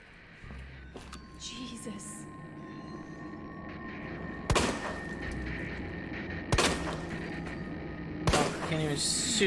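Three sharp, loud gunshots ring out at spaced intervals in Resident Evil 2 Remake, over a low ambient hum and eerie background music.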